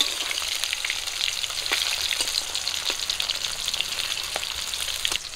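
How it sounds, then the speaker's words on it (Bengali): River folli fish sizzling in hot oil in a frying pan, a close, steady crackle with scattered sharp pops throughout, no voices. "তিনটা করে মাছ দিয়ে ভাজবো আমি অল্প অল্প করে।"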